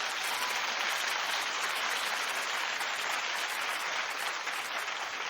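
A television talk show studio audience applauds, a dense, even wash of many hands clapping at a moderate distance that holds steady the whole time.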